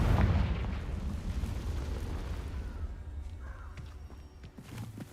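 A Confringo fire spell blast in the Hogwarts Legacy video game, a deep booming explosion that rumbles loudly at the start and then decays into a long fading roar with small debris sounds.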